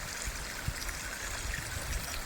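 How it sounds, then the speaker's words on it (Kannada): Water flows down from higher ground in a steady, soft outdoor rush with faint trickling and occasional low bumps, heard from a distance. "ಅಲ್ಲಿಂದ ಬರ್ತಿರೋದು ನೀರು. ಇನ್ನೂ ಮೇಲೆಯಿಂದ ಬರ್ತಾನೆ ಇದೆ."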